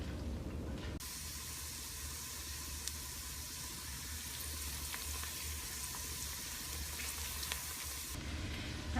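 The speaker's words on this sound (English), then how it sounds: "I usually saute my onions and peppers for about 6 or 7 minutes because I like them to be really soft" Onions and peppers sauté in a pot as the base for a baked potato corn chowder, giving a steady, close sizzle and hiss that runs unbroken without any talking.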